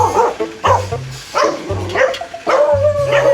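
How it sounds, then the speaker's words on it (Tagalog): A dog barks repeatedly and excitedly nearby in quick bursts, with yips mixed in, sounding agitated as if giving chase. "hinahagad tayo ng aso"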